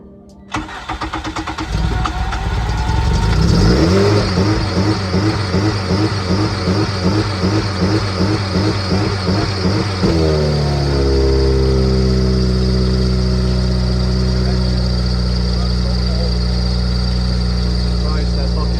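K-swap engine cranking and starting with the exhaust cam position sensor disconnected, then a loud, steady idle with a pulsing, rough beat that settles into an even drone and a high whine on top.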